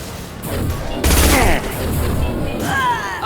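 A high-impact gunshot fired in Mass Effect 2 cracks as a sharp, loud burst over ongoing combat noise and scattered game sounds.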